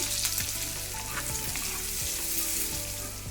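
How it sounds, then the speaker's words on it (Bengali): Chopped onions frying in butter and white oil in a kadai give off a steady, close sizzle, with a few faint stirring knocks. No voices are heard. "পেঁয়াজ রসুন আর আদাটা ভাজা হয়ে গেছে"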